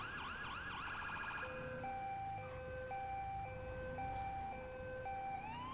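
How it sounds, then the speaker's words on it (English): A police vehicle siren in GTA 5 with the LSPDFR mod wails in a steady, loud two-tone pattern, stepping between pitches every half second or so, preceded by a brief rising yelp sweep, with no talk. "I gotta say, this is actually a very nice sounding siren."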